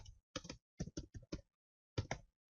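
Short bursts of keys clacking on a computer keyboard, a quick cluster of five keystrokes followed by a pause and two more, close and distinct in a quiet room.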